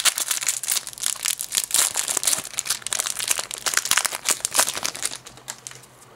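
Close, busy crinkling and tearing of foil wrapping as a Yu-Gi-Oh card pack from a 2011 tin is opened, rapid crackles tapering off near the end.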